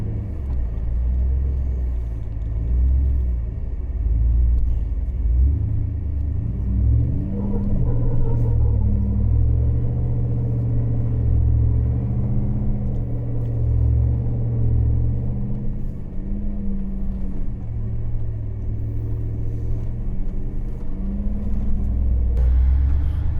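Low rumbling drone of an Eco Diesel Jeep Wrangler JL working its way over rough off-road lines in Moab, engine note rising and falling steadily at a moderate distance.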